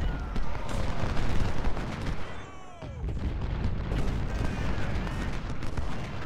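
Artillery fire in the Ultimate General: Civil War game during the Battle of Antietam, a dense, continuous roar of cannon blasts and rattling gunfire with whistling shells, loud and close throughout.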